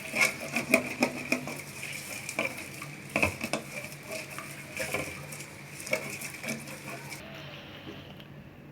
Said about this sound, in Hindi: और चम्मच को बराबर चलाते रहना है